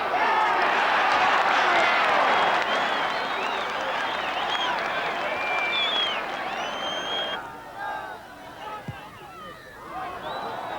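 A large Gaelic football crowd at a 1990 Leinster quarter-final in Drogheda roars and applauds, a dense sustained cheer that gradually thins, with some scattered whistles and shouts.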